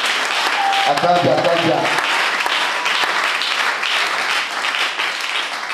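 A church congregation claps and cheers in praise of Jesus Christ, a dense, sustained wash of applause, with a sung or chanted voice rising through it briefly near the start.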